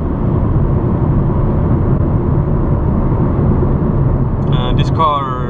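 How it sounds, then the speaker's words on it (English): Steady wind noise and tire roar fill the cabin of a 2006 Peugeot 207 1.4 while driving, a loud, constant broadband rush with no radio playing, and a brief higher tonal sound near the end. "I think even you can hear the wind noise and tire roar"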